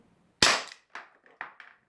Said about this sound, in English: First of all, I'll do 3 shots with single action.